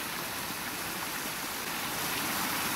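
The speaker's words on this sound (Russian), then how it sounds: "Вот, вот какой водопадик." A small waterfall tumbling over stones beside a field makes a steady, close, hissing rush of water that fills the whole stretch, with no voices over it.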